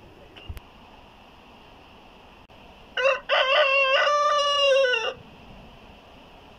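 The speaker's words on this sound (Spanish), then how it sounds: "ahí tenemos a mi gallito que está cantando" A rooster crows once, loud and close, in a single drawn-out call lasting about two seconds, amid quiet farmyard background while poultry and other animals roam free at pasture.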